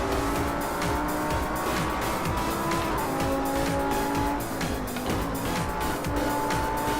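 An Audi R8 oversteering through a corner, tires squealing in long sustained tones over a loud, continuous engine roar, close and steady throughout.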